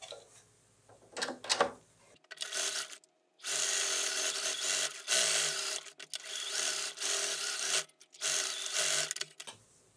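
A sewing machine stitching mitten pieces on a long stitch length: a few short hesitant bursts, then several sustained runs of rapid mechanical whirring separated by brief pauses, close and loud, no talking.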